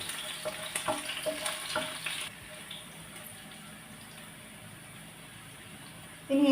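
Green chillies and ginger sauté in a pan for restaurant-style chilli chicken, giving a steady low sizzle with a few scraping stirs early on, then a quieter fry before a sudden louder burst at the end.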